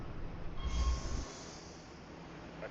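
A subway train arrives in a video game, a low rumble building and peaking before settling into a quieter hum, with faint high squeal tones, heard alone without talk.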